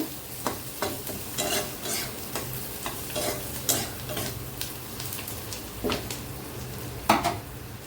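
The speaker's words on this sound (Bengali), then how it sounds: "তার মধ্যে দিয়েছি 2 টুকরা দারচিনি আর একটা এলাচ, আর সরষের তেল আমি ভাজি করছি। পেঁয়াজটা একটু লাল লাল করে ভাজি করে নেব।" Chopped onion fries in hot mustard oil with cinnamon sticks and cardamom for vegetable fried rice, giving a steady close sizzle with repeated scraping and stirring sounds from a spatula against the pan.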